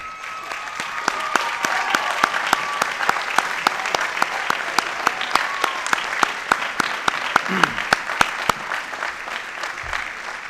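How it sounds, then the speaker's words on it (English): Applause fills a university commencement hall as honors graduates stand: a broad, continuous crowd clapping, with one nearby pair of hands striking sharp, regular claps above the rest for about ten seconds. "Please join me in a round of applause to acknowledge these significant academic achievements."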